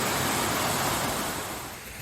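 A waterfall on the Pinchot Trail South Loop gives a constant, loud broadband roar from close by, with no voices over it.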